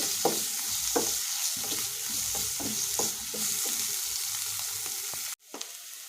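Bitter gourd pieces frying with chili powder and jaggery in oil, a continuous close sizzle broken by regular spatula scrapes and stirs, then a brief sharp cut near the end.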